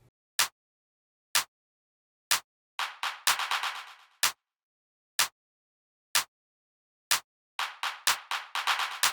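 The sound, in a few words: clap sample with Fruity Delay 3 in FL Studio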